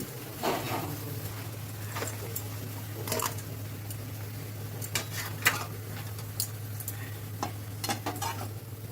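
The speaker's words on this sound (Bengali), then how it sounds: "এবারে কেটে রাখা পালং শাকটা দিয়ে দিচ্ছি।" Chopped spinach going into a pan and being stirred, soft scraping stir strokes and light sizzling with scattered utensil clinks against the pan, close, over a steady low hum.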